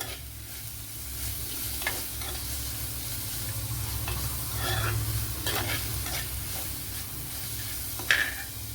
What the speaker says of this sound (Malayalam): ഇതൊന്ന് നല്ലതുപോലെ ഒന്ന് വഴണ്ട് വരണം.